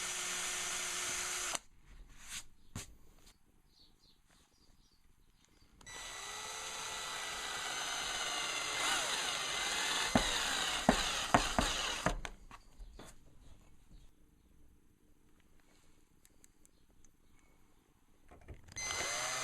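Small screws being driven into the wooden back of an upcycled mitre-jointed mirror frame, a quiet whirring screwdriver buzzing in a couple of longer bursts with short gaps and light handling clicks between, no talk.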